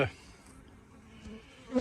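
A swarm of honey bees, taken in from a cardboard box at an apiary, gives off a faint, low continuous buzz close by, with a few soft knocks and a brief louder rustle at the end.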